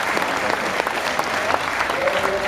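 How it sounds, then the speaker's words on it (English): A crowd applauds Kevin Levrone at the Bodypower 2013 bodybuilding expo. The clapping is dense and steady for the whole stretch, with faint voices mixed in. "Give him a round of applause"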